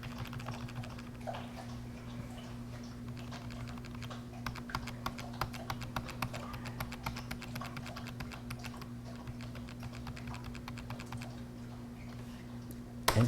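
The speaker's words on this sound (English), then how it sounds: "Press the end key on the keyboard to get us into the QFlash application for Gigabyte" Keys on a computer keyboard are pressed in a rapid, irregular patter of soft clicks during a Ryzen 5 2600X PC build, set against a steady low electrical hum, with a louder clunk at the end.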